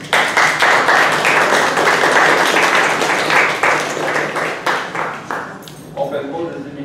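An audience applauds at a French-language talk, dense sustained clapping that carries for several seconds and then thins into scattered claps as a voice begins talking.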